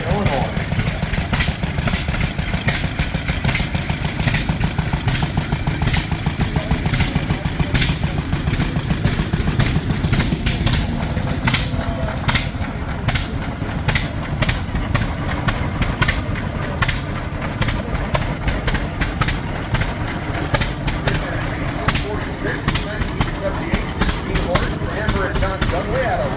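A 1928 Rumley 25-40 tractor engine runs at the Sycamore, Illinois steam power show, chugging in a steady, rapid rhythm nearby while someone talks over it.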